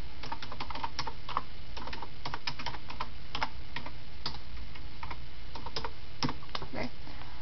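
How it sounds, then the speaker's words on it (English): Typing on a computer keyboard in an image editing program, a steady run of light, irregular clicks and taps close to the microphone with no voices. "Type whatever you want, change the size, mess around with it."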